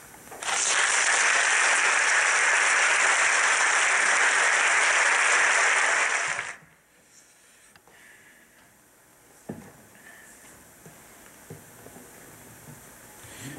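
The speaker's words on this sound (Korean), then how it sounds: "우리 박수로 모시겠습니다." A church congregation at a Christmas service claps in sustained, loud, even applause for about six seconds before it stops abruptly, leaving quiet room noise with a few faint knocks.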